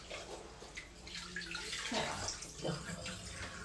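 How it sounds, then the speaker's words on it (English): Water gurgles and drains out of a basin after a wig has been washed in it, a steady close rushing wash with a few swirling surges. "We're going to drain that out."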